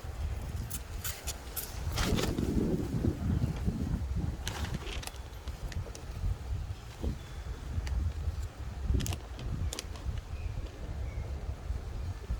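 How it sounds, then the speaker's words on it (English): Gusty outdoor wind buffets and rumbles close to the microphone, with scattered clicks and rustles, and no voices. "it is a little windy out here"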